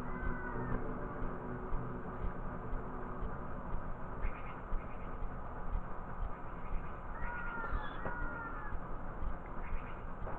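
In the Zelda: Ocarina of Time video game, crows caw repeatedly in harsh, nasal cries over a dense, continuous game soundscape, with several calls layered across the stretch.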